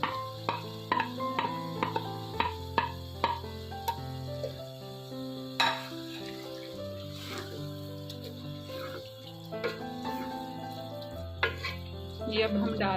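Chicken mince cooking with peas in a pan at home, a soft frying hiss under repeated sharp clinks and taps of a spoon stirring against the pan, with steady background music.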